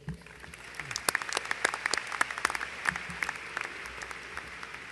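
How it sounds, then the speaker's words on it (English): Audience at a university new student convocation applauds a faculty brass quintet, with sparse early claps building into steady, moderately close clapping that holds throughout. "Would you join me in thanking them with your applause, please?"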